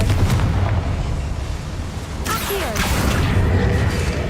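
A Confringo fire spell bursts in Hogwarts Legacy inside a boiler-filled dungeon, a loud blast with a crackling, booming tail. It sounds over a steady, dense game soundscape.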